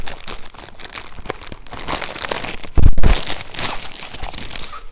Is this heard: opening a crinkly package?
yes